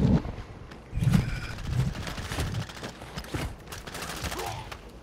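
Video game firefight in Ashika with bursts of gunfire, a mix of single shots and rapid automatic fire, fairly close and steady throughout with no talk.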